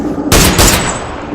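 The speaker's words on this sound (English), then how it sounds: "That fucking gun hits hard, bro." A gun firing in the PUBG video game, two loud, sharp shots close together, each with a short ringing tail, and no talk.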